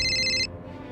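Telephone ringtone trilling loudly for about half a second, then cutting off abruptly into quiet room tone.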